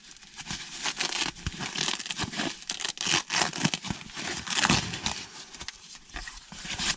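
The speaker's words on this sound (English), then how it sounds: "So let's start unpacking this." Packaging being torn and unwrapped from Jaguar ash wood veneer trim, close crinkling and ripping in irregular bursts with scattered sharper crunches, no voices.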